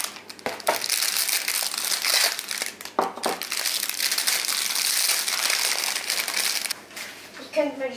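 Paper rubbish being crumpled in a home kitchen, loud crinkling and crushing close to the microphone that runs almost continuously with a few brief pauses.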